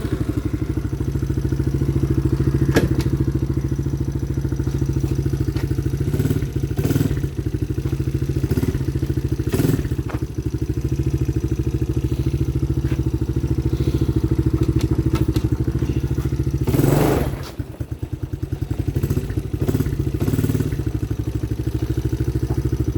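Engine of a GiO Blazer 125cc motorcycle fitted with a new clutch runs steadily and close by, with clattering and occasional thumps, a brief dip near the end, and no talking.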